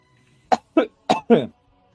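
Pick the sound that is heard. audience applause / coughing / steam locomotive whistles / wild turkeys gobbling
coughing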